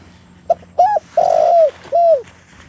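A spotted dove coos four times in a steady series of short, rising-falling calls, close and clear over a quiet forest background, as a decoy bird used in dove trapping.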